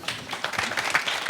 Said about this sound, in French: Nicolas Koreski, que vous pouvez applaudir